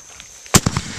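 Fireworks bursting at night, amateur backyard set: one loud sharp boom followed by several smaller crackling pops in quick succession, close and punchy against a quiet background.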